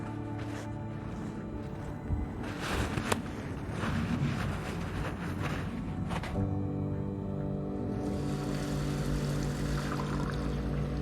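A CABINPUMP pump runs steadily as it pumps blue roll into an IBC, a continuous mechanical hum with watery churning and some knocks and clunks, alone without voices.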